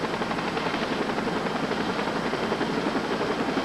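A rescue helicopter arriving with a toddler and her mother, its rotor chop a loud, steady, rapid thudding drone that is continuous and close and carries no voices over it.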